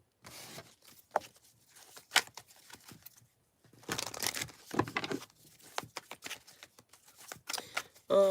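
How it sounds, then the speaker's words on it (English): Tarot card deck being shuffled by hand: irregular bursts of crisp papery riffling and flicking, with short pauses between handfuls, close and fairly quiet. "I gotta shuffle the deck."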